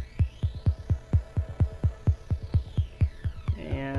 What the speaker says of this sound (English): I'm going to feed this into a flanger